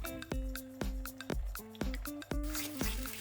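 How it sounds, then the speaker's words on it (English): Flour mixture and evaporated milk poured into a pan for Swedish meatball sauce, a run of wet plops and drips landing one after another with ringing pan tones, close and clear. "Same pan, add flour mixture and evaporated milk."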